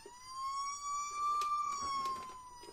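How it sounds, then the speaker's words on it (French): A small Playmobil toy ambulance sounds its electronic siren, a thin steady wailing tone that holds fairly level, heard close up amid light handling noise. "nous avons l'ambulance qui fait du bruit."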